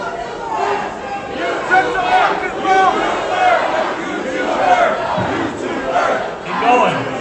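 A crowd at a boxing press conference shouts and hollers in loud, overlapping waves, rowdy voices rising and falling continuously for several seconds.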